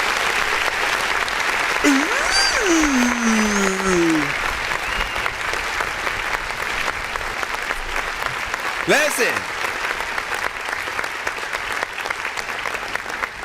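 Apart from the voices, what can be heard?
audience clapping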